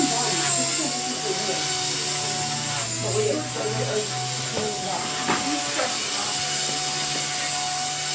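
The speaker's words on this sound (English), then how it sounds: "recording a helicopter that they're trying to see if it works right" A radio-controlled helicopter running after repair at a flying club, giving a steady buzzing whine from the motor and rotor that holds at an even loudness, with a few faint clicks and brief spurts of talk mixed in.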